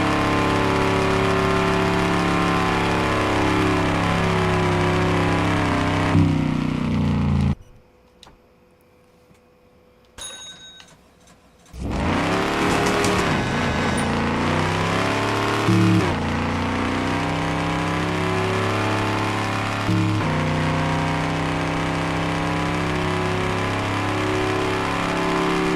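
A race car engine in the video game Rev Head revs loud and steady with rising and falling pitch sweeps. It drops out briefly to near silence during a gear change, then roars back up and holds at high revs.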